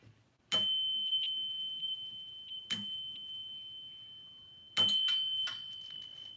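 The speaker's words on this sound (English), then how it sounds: "We're going to ring the bell and get this thing started" A small bell rings three times before a daily tarot reading, each strike a bright, sustained ding with a long clear ring-out, the last strike doubled and slightly louder, with no talking.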